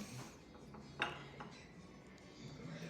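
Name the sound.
eggs being placed into a little egg holder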